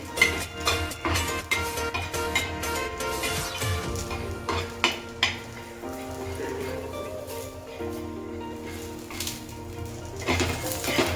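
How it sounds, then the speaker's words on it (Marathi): Grated coconut sautéed in oil in a pan for Karjat-style shipi amti, with soft stirring scrapes, light clinks of a spoon and a faint sizzle. "खोबरं पण थोडंसं असं परतून घ्यायचंय तेलावरती।"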